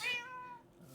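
A cat in a Minecraft village gives one clear, drawn-out meow, loud and close, fading over about half a second with only faint background afterward.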